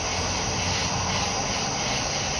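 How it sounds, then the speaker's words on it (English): Steady, broad rumbling roar of a passing train, constant and fairly loud throughout with a hissy high end and no clear rhythm, with no voices present. "That was a train."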